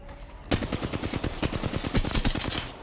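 Rapid automatic gunfire in the battle royale shooter Apex Legends, starting abruptly and continuing as a fast, loud, evenly spaced string of close shots for over two seconds.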